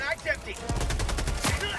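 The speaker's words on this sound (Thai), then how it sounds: "มันมีปืนกลจริง" Machine gun fire in the video game Helldivers, a rapid burst of sharp, loud gunshots over about a second and a half, with someone speaking before it.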